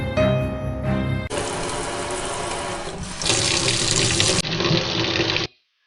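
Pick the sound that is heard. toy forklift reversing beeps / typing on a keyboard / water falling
water falling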